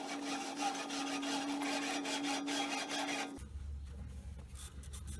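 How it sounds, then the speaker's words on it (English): Spliced rope being dragged through the track of an automatic pool cover, a steady close scraping and rubbing with a thin whine, then a shift to a duller, lower rumbling grind for the last couple of seconds. "Now I'll finish pulling it through."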